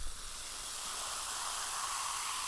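Carbonated grapefruit soda fizzes in a steady, soft hiss that lasts throughout, close by and with no voices over it.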